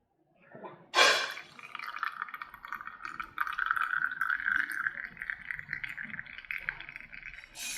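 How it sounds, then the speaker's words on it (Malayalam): Homemade virgin coconut oil is poured into a bottle, starting with a sharp clink of glass, then a thin continuous trickle of liquid that fills the bottle steadily, close up. "നമുക്ക് ഈ ഉരുക്ക് വെളിച്ചെണ്ണ ഈ കുപ്പിയിലേക്ക് ഒഴിക്കാം."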